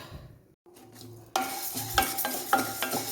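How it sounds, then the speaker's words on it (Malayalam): Urad dal fried in oil for bitter gourd curry, stirred with a spoon until golden brown: a quiet lull, then a steady sizzle with scraping stir strokes and a few light clinks, no talk. "ഇതൊന്ന് ഒരു ഗോൾഡൻ ബ്രൗൺ ആകുന്നിടം വരെ വറുത്തെടുക്കാം"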